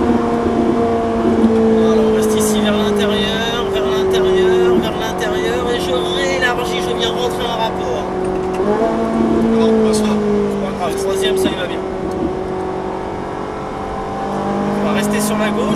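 A Ferrari 458 Italia V8 accelerates hard out of a chicane on a track, engine note climbing through gears with shift dips, loud and close under a driver's running commentary.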